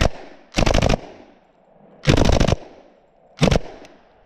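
An AK74 rifle lets off three loud, close bursts of rapid automatic fire, each about half a second long, with short quiet gaps between them.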